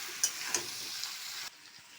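Taro vegetables frying with turmeric and salt in a pan, a close, steady sizzle broken by two or three sharp clacks of a spoon stirring, then the sizzle abruptly drops much quieter near the end.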